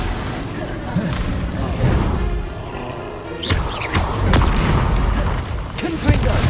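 Booming Bombarda spell blasts from Hogwarts Legacy, loud deep impacts rising out of constant combat noise, with a speaking voice mixed in.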